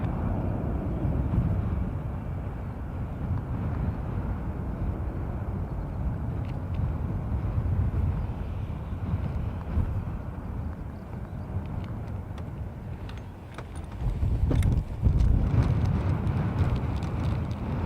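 A USC Aero Airbus A340 takes off at Dublin Airport, its steady, loud jet roar running throughout and swelling toward the end.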